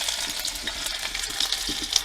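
Chopped ginger sizzling in hot oil in a wok, a steady close crackle with small pops and light stirring scrapes throughout, no talking.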